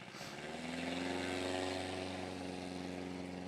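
Piper PA-18 Cub landing at a Rocky Mountain STOL competition, a steady propeller-engine drone with falling pitch as power is reduced, fairly distant and faint, swelling briefly then easing off.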